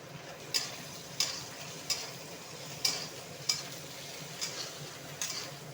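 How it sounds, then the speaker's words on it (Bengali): Garlic frying lightly in a pan for an eggplant curry, a soft steady sizzle broken by sharp, regular clicks and taps of stirring roughly every half second or so. "রসুনটা হালকা ভেজে নিই"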